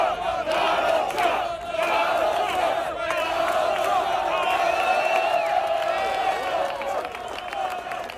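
A large sold-out crowd chants in a steady roar at an event with President Trump. The chant fills the whole stretch with rhythmic massed voices and scattered cheers over continuous crowd noise.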